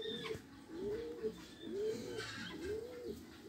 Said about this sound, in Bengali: এই জালালি কবুতরটা আমার বাসে আছে।